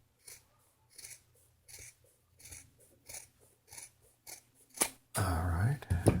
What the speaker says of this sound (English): I always cut like that, cut at an angle there at the corner, and then continue on down.